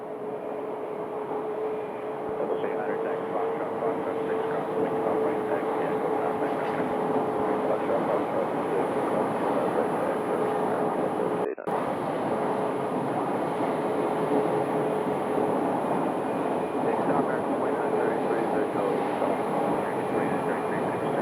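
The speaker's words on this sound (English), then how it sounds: "this is the A321 inbound from Orlando" An Airbus A321 airliner inbound from Orlando landing at Phoenix Sky Harbor, a sustained steady jet engine roar heard from the airport with a faint whine on top, holding at an even level for the full stretch.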